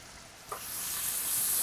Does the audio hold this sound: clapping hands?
no